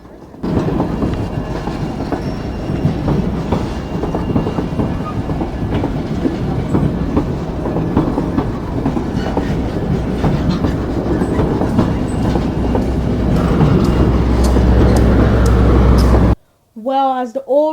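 A White Pass and Yukon Route train in Alaska rumbles steadily along the rails with a continuous rhythmic clatter of wheels. A voice briefly speaks at the very end.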